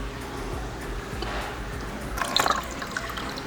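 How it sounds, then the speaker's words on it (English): Water from a reef aquarium trickles slowly through a siphon hose into a bucket, a few faint drips and a brief splashy burst over a low, steady background hum. "we are just gonna siphon some of the water here into the bucket"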